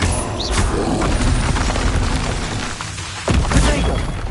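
Incendio fire spell cast in the video game Hogwarts Legacy, a sustained loud whooshing, crackling burst with a sharper boom near the end, over a busy game soundscape.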